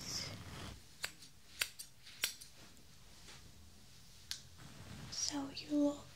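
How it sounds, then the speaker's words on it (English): Scissors give a few sharp, separate snips while trimming stray hairs close to the microphone in a quiet ASMR care role-play, with soft whispering around the cuts. "I think I need to cut a few stray hairs"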